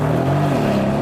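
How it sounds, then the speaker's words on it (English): A £300k Bentley saloon's engine revs hard with the brake held and throttle floored before a standing launch, a steady loud droning roar close by with no talk. "Left foot on the brake, floor the throttle,"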